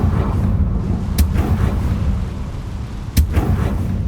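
Confringo fire-blast spell explosions in the video game Hogwarts Legacy, two sharp booming blasts about two seconds apart over a steady low rumbling game ambience, with no talking.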